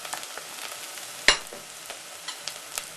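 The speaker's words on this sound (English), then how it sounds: "just stir fry that just for 1 to 2 minutes until it's fragrant" Ginger stir-frying in hot oil with softened golden-brown onions gives a steady crackling sizzle, dotted with small pops and one sharper scrape or clatter, close by and with no talking.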